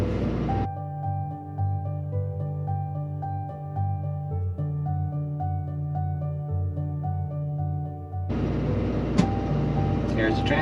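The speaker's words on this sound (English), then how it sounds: "Next thing you'll hear is the transfer switch." Fire apparatus generator on a Boston Fire Department rig: steady tonal engine hum holds, then an abrupt broadband shift near the end as the transfer switch engages with a brief click, loud and close.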